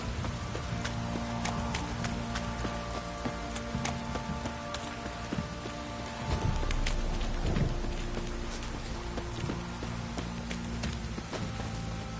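Steady rain falls in The Witcher 3 video game, a continuous hiss of drops on the ground beneath rhythmic horse hoof clip-clops and scattered sharp ticks, with no talking.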